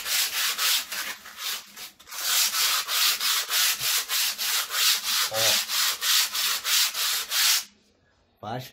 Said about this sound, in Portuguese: Então eu vou passar um pedaço a lixa